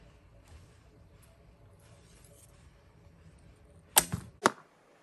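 An arrow loosed from a 30 lb Hun bow by Grózer makes a sharp snap and then a second loud thud half a second later, standing alone after several seconds of quiet room background.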